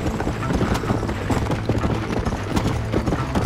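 Horse hooves clip-clop in a steady, dense rhythm as a rider travels in the Western game Red Dead Redemption. The hoofbeats sit inside a busy, full mix of outdoor game ambience, with a faint voice in the background.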